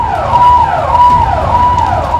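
Ambulance siren cycling in repeated wailing sweeps roughly every half second, loud and near, over a low rumble of street traffic in Lucknow.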